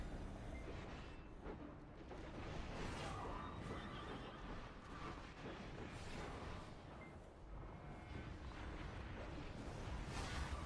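Horses neighing and whinnying in a video game battle, heard faintly over a dense, continuous rumble of combat noise and whooshes with no clear talking.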